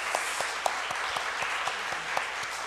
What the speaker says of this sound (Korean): 우리 목사님 오셨으니까 일단 박수로 한번 맞이하면 좋겠습니다.